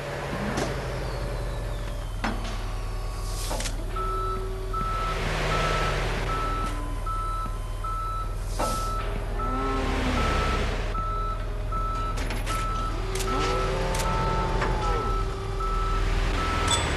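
Repeated steady reversing beeps from a tow truck in the Police Simulator: Patrol Officers highway patrol game sound over a continuous low engine rumble, with occasional clunks and hisses of the truck working.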